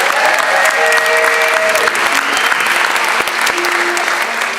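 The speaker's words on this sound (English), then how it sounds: "Big round of applause for the young lady again" An audience at an MLK celebration in Santa Rosa claps loudly and steadily, a dense wash of applause close by that lasts throughout with scattered voices underneath.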